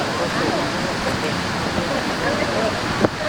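Rough surf at high tide washes in as steady, broadband noise close by, with a brief louder splash near the end and no clear pauses between waves.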